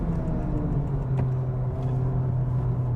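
A 2023 Honda Civic Type R engine and sports exhaust rumble loudly and steadily, heard from inside the car, with a deep droning hum and faint shifts in pitch.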